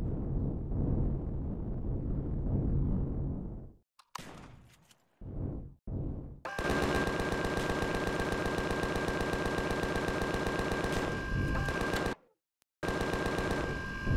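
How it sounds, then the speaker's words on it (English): Gunfire from a shotgun in the sci-fi survival game Empyrion Galactic Survival, with a few sharp separate blasts followed by long, loud, continuous bursts of rapid shooting that break off briefly near the end. "Probably shooting at me with a shotgun, actually."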